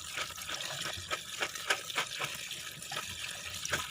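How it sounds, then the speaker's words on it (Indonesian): Water runs into a jar to soak soybeans for making tempe, giving a quiet, continuous splashing trickle with small irregular gurgles and no voices. "Kita siapkan toples yang akan diisi air sampai kira-kira setengahnya."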